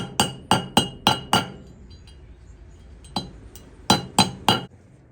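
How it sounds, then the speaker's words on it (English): A hammer taps a lock nut tab washer flat during a Hillman Imp front suspension rebuild, giving sharp metallic clinks: a quick run of five strikes, a pause with a single tap, then three more close blows. "I'm just going to tap this lock nut flat"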